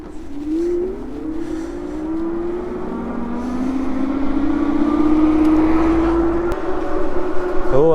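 A Ridstar Q20 Pro dual-motor e-bike climbs a hill on throttle alone at power assist 5, its motors giving a loud, close, rising whine that holds and strains upward over wind and road rumble for several seconds.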